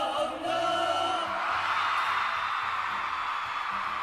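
A fan meet crowd in Cebu screams and shouts, a faint, distant wash of high voices over a low musical rumble throughout.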